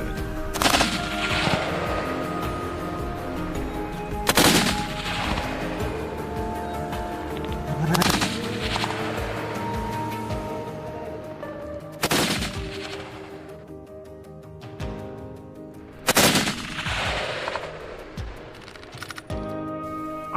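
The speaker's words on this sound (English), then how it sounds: "Refusing to give up, he kept firing." Gunfire at a wild boar, five loud sharp shots spaced a few seconds apart, each ringing out and echoing through open country, with no talking.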